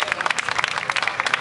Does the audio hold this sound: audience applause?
yes